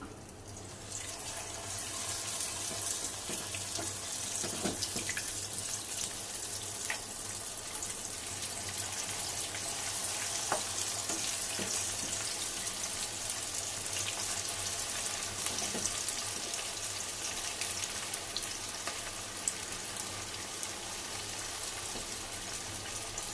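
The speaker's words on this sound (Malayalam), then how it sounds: "ഇനി നമുക്ക് മസാല തേച്ച് വെച്ച ചിക്കൻ്റെ പീസ് ഓരോന്നായിട്ട് എടുത്തിട്ട് കൊടുക്കാം." Masala-marinated chicken pieces frying in hot oil for chilli chicken give a steady, close sizzling hiss that stays even throughout, with faint occasional pops.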